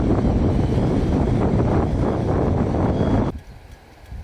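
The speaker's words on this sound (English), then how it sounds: "it is super windy. It's shaking my camera and everything." Strong gusty wind on Terceira Island in the Azores buffeting a camera microphone, a loud continuous low roar for about three seconds that then drops off sharply to a quieter hiss.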